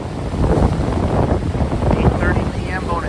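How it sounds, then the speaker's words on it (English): Strong wind buffets the microphone in a constant rough roar on a hiking trail between Wetmore Landing and Little Presque Isle in Marquette, Michigan, with faint voices barely audible beneath it. "It's pretty windy down here."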